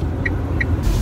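Frosty-weather Nissan Leaf electric car running, a steady low rumble of motion and cabin noise with two brief soft chirps, no talking.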